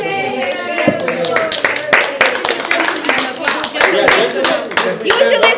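Audience clapping for the women at the Mafia World Cup semi-finals of a UK regional championship, sharp irregular claps mixed with voices and chatter throughout.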